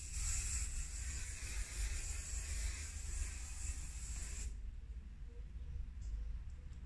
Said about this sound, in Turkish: Sprey sıkalım.